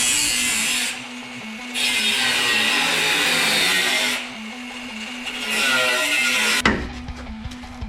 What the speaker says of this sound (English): So I'll get the cut-off wheel and do that now.